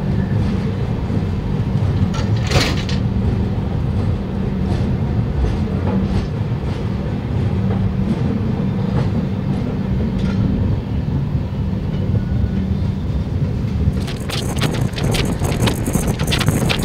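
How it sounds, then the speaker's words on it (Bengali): SMVT Bengaluru Superfast Express pulling out of Vizianagaram Junction, a steady loud rumble of wheels and carriages running on without a break, with a brief brighter clatter near the start and sharper rattling toward the end. "এখন ট্রেনটা রওনা দিয়েছে বিজয়নগরম জংশন থেকে"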